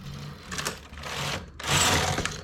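Knitting machine carriage sliding back and forth across the needle bed while knitting rows, a loud whirring, rasping sweep in several passes with a brief gap between strokes.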